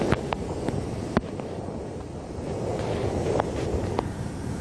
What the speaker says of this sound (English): Fans are blowing very well.